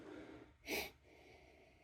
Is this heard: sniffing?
yes